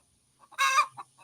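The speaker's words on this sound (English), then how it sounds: "That stupid chicken." A chicken on a rural homestead gives a single loud squawking cluck burst with a couple of softer clucks around it, close by and otherwise quiet.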